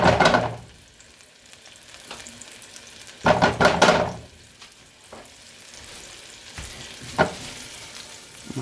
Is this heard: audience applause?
no